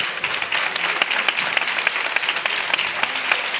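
An audience applauds at a talent-show semifinal, a dense, lively burst of many hands clapping continuously at close range, with no clear speech over it.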